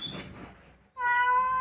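A cat gives a single drawn-out meow, close and clear, rising after a quieter stretch of soft background noise.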